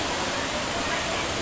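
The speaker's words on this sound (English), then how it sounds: "this is the tallest man-made waterfall in the world inside" Steady broadband rush of water from the tallest indoor man-made waterfall, inside a building in Singapore, a constant even roar with no breaks.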